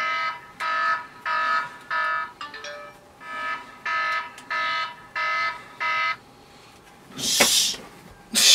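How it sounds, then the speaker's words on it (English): An alarm rings indoors in a rhythmic pattern of about eight loud, evenly spaced buzzing pulses, followed by a brief harsher burst near the end. "Why is there an alarm?"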